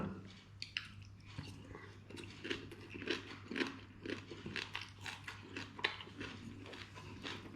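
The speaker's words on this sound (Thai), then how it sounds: "มากินกับส้มตำตำไทยนะ ใส่ปูด้วยนั่นแหละ" Someone eats Thai papaya salad (som tam) with crab, producing a steady run of close, crunchy chewing and biting sounds over a faint background hum.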